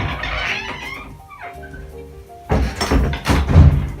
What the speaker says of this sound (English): Push the door.